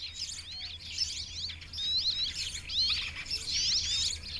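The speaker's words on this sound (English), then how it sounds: "inhabited by a number of birds, including tits and the shy rock sparrow" Small birds such as tits and rock sparrows chirp in quick, high twittering bursts among the limestone cave dwellings of the Sassi of Matera, with several calls overlapping against a quiet background.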